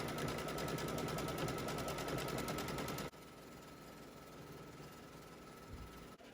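A sewing machine stitches a tack-down line on a floral quilt block, giving a loud, fast, rhythmic needle hammering that runs steadily for about three seconds, then stops, leaving a softer motor hum.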